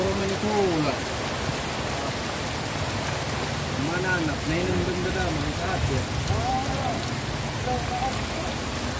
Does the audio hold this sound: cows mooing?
no